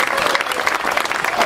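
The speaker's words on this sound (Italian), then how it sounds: "dai un bel applauso" Applause from an outdoor crowd at the unveiling of an equatorial sundial monument carved in Aurisina stone, a dense, steady burst of many hands clapping close by throughout.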